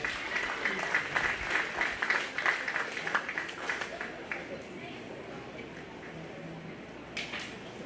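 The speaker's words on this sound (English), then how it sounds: "Let's give those kids a round of applause" An audience at a county fair 4-H and FFA swine show breaks into a round of applause for the young winners, dense clapping strongest early and tapering off, with an announcer's voice carrying over it.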